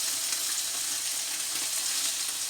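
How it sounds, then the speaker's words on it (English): Tofu frying in a pan, a dense, steady sizzle that crackles evenly for the whole stretch, close and fairly loud with no talking. "we're just going to give this tofu 2 to 3 minutes on all sides"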